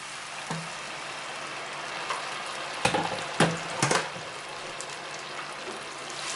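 Salsa verde sauce added to a hot pan of softened onion for pork chicharrones, a steady close sizzle and hiss with a few brief clatters of utensil and pan partway through.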